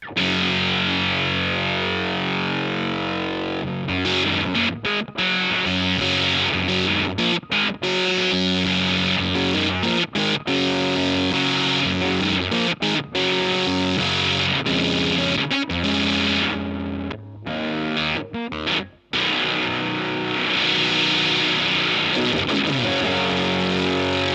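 Electric guitar through a fuzz pedal cranked high, a thick, saturated distorted tone playing riffs and sustained chords continuously, with a few brief abrupt stops and no talking.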